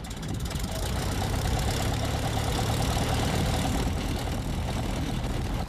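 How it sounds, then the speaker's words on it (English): Single-engine light aircraft piston engine running steadily at idle after start-up, a continuous close, loud rumble with a rough knocking pulse, alone without talk. "She sat in the cockpit, started the engine."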